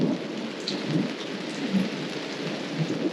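Heavy rain pounds steadily on a caravan during a thunderstorm, with low rumbling thunder rolling underneath, loud and close throughout.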